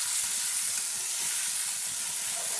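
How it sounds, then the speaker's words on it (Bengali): Mustard paste sizzles and fries in a pan for Bengali-style mustard hilsa, a steady close hiss of hot oil with faint soft stirring underneath, continuous and alone. "সর্ষের পেস্টটা আমি খুব কম ভাজবো, খুব একটা ভাজবো না আমি।"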